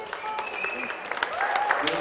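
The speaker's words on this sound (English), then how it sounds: "Let's give another round of applause." Light, scattered applause comes from the crowd at a polo club, fairly faint and sparse, mixed with voices and whistle-like tones over two seconds.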